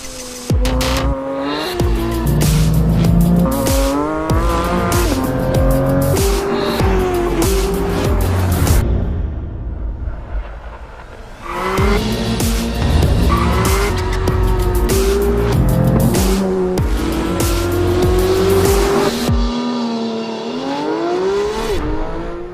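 A 2025 Porsche 911 GT3 with its high-revving, naturally aspirated 4-liter engine is driven hard. Loud engine wails climb and fall through gear changes, tires squeal and skid, and there is a brief lull midway before the screaming revs return.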